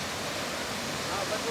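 Güden waterfall in Antalya, Turkey, a 20 m cascade fed from the Taurus Mountains, makes a steady, even rush of falling water heard from a distance, fairly quiet and unbroken throughout.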